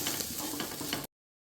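Vallarai keerai greens and curry leaves sautéing in a hot pan, giving a steady close sizzle and frying crackle for about a second before cutting off abruptly.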